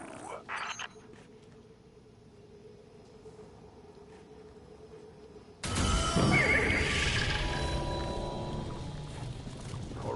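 A horse in the video game Destiny 2 whinnies loudly after a few quiet seconds, followed by snorting and clopping, with game-like ambience throughout.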